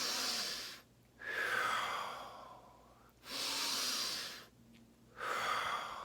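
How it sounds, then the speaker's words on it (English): Deep breathing as a bedtime relaxation exercise, with three long, close, airy breaths, each a slow deep inhale followed by a gradual exhale, separated by brief pauses and with no speech. "do some deep breathing just before going to bed"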